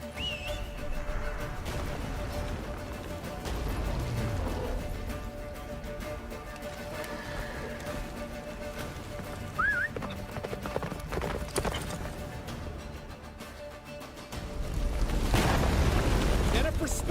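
Hoofbeats of the horse Roach galloping through a snowy battlefield in The Witcher 3, a steady clip-clop under rumbling booms, whooshes and game music, with voices speaking over it and a louder surge near the end.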